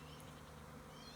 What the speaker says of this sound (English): they sound like a power plant. They're humming so much here.